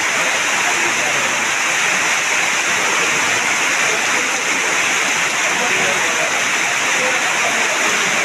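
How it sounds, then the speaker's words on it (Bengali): Torrential rain falling on a rose garden in Mirpur, Kushtia: a loud, constant roaring wash of water, close and even from start to finish. "মনের মতো বৃষ্টি হচ্ছে।"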